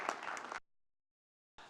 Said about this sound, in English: would you join me in a round of applause for all of our partners and sponsors?